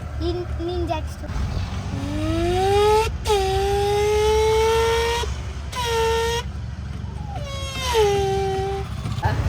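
A boy imitates a vehicle engine with his voice, making drawn-out rising and falling revving tones in several bursts, loud and close.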